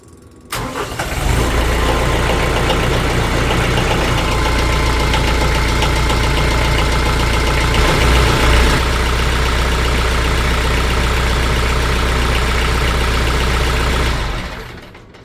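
A TYM T474 tractor diesel engine, fresh from an oil and filter change, starts and settles into a loud, steady idle, running close by and alone before cutting off near the end.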